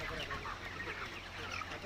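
Broiler chickens in a hot poultry shed fitted with exhaust fans make soft overlapping clucks and chatter, a dense flock murmur heard at close range against a constant low hum.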